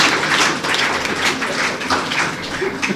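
An audience at a college lecture event claps steadily for a few seconds, the scattered applause loud and continuous, with no talking over it.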